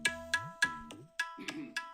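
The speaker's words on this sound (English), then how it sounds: "it comes with this one funky beat that sounds like this" An iTabla electronic tabla app plays its built-in funky beat, a steady pattern of crisp, resonant drum strokes with deep pitched bass tones, moderately quiet and heard alone.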